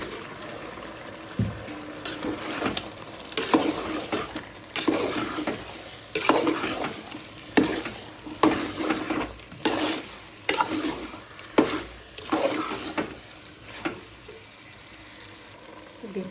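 Chicken pieces being stir-fried in a pan for a potato chicken curry, with a soft sizzle under repeated scraping stirring strokes that come in an uneven rhythm, fairly close and moderately loud.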